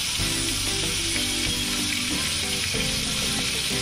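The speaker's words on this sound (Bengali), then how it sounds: "এবং উল্টো দিকটাও আমি খুব ভালোভাবে ভেজে নেব।" Pangas fish pieces fry in hot oil after being flipped, giving a loud, dense, continuous sizzle close by and no talking.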